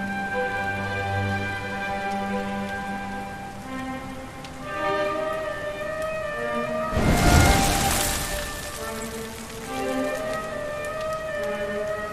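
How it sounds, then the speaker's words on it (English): Steady rain hiss in the video game Dragon Quest XI, with a swelling gust of heavier downpour midway, set against sustained synthetic musical tones. "Looks like the rain's dying down."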